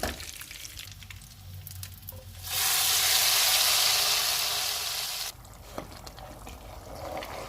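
A sudden loud burst of sizzling erupts as hot tempering hits the dal, hissing strongly for a few seconds before cutting off abruptly.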